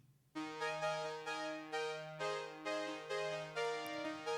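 Top-left layer of a four-layer digital synth pad from a keyboard rig, entering after a brief quiet start and pulsing in even rhythmic swells with bright, dense harmonics, played alone.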